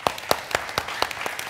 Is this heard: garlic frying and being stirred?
no